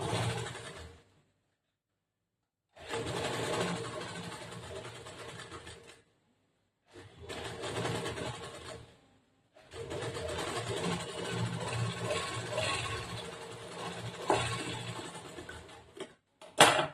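A sewing machine stitches a princess-cut blouse in several runs separated by silent pauses, producing a rapid ticking whir close by, with no one speaking.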